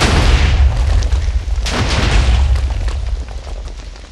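TNT blasts in a block-building video game, a loud dense run of booming explosions rolling together with rumbling low end, tapering slightly toward the end with no talk over it.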